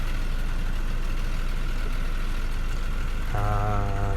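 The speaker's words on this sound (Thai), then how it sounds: "เดี๋ยว เปิดเครื่องยนต์ดูนะครับ" A Sakai TS150 road roller's Isuzu diesel engine idles with a steady low rumble, then revs up near the end into a louder, droning hum.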